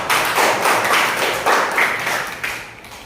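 Scattered hand claps from a small group of students in a ninth-grade classroom, a brief burst of applause that fades after a few seconds.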